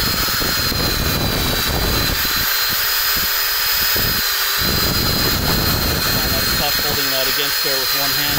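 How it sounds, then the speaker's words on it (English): A wire wheel on a hand tool scrubs corrosion off a 2005 Volvo XC90 rear brake rotor, a loud constant whirring grind with brief changes in pitch as it bites, running the whole time. "Show you how well this wire wheel works if I can hold it with one hand."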